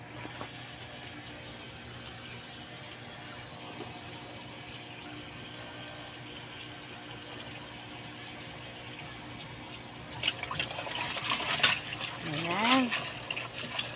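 Chicken tinola ingredients being washed under a running tap: a steady low water hiss runs throughout, turning louder and splashier near the end as hands rub and rinse the produce, with a person speaking briefly.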